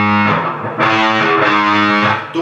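An overdriven electric guitar plays a fifth (power) chord, thick and distorted with rich sustained harmonics; the chord is struck twice, the second strum restarting the ringing, with no voice over it.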